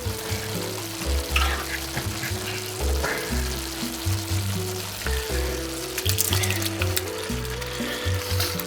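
Tomatoes frying in a pan with thyme and oregano for a thick Bolognese sauce, a steady close sizzle and crackle with a low musical bed underneath throughout.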